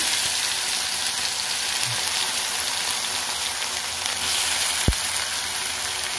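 Onion, grated green chilli and cumin sizzle steadily in hot oil, a dense close hiss with one sharp tap partway through and no voices.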